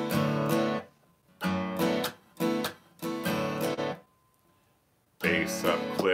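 An acoustic guitar plays a bass-up-click strumming pattern for a song, heard as close, loud bursts of strummed chords separated by short pauses, with no voices.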